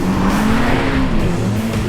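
A front-engine Ferrari Roma slides as its rear breaks free, with loud, continuous engine roar and tyre noise filling the whole stretch, close and steady.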